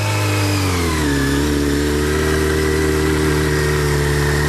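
Motorcycle engine revving hard during a burnout with the front brake held, a loud sustained roar that settles into a steady high rev; near and alone with no talk.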